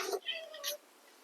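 A house cat gives a couple of short, close meows in quick succession, with a voice in the background.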